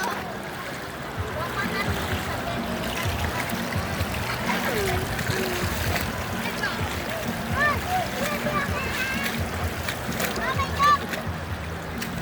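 Steady river water rushing and splashing near the Balanac irrigation dam in Magdalena, Laguna, where someone bathes in the river, with a continuous wash of flowing water throughout and talk faintly underneath.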